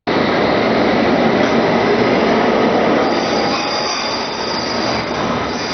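A London Underground train near Tower Hill rumbles steadily with a loud, sustained metallic squeal of wheels on the rails throughout, close and unbroken.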